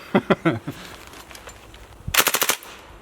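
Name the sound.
airsoft gun firing in full auto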